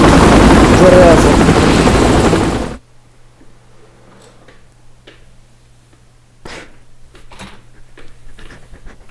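A helicopter in the video game Saints Row 3 gives a loud, dense rotor roar for about three seconds. It then cuts off abruptly to a quiet low hum with scattered faint clicks and thumps.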